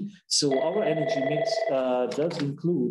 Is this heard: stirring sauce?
no